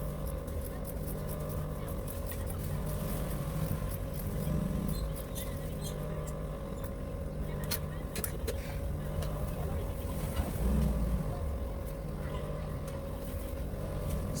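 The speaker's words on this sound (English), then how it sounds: "Then I'll sew it down like so also." A sewing machine stitches the band of a reversible flare peplum blouse. It gives a steady mechanical hum and whir that runs close and continuous, with faint bits of speech beneath it.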